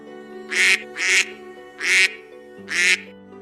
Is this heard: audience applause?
no